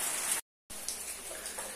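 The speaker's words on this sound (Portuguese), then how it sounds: "olha, agora tá chovendo" Rain falling in the rural sertão backcountry, a steady hiss of drops broken by a brief gap of silence, loud and close with no voices.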